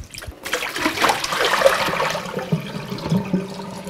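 Raw Shetland fleece being rinsed in a basin of water, giving close sloshing, splashing and trickling for a few seconds after a brief quiet start.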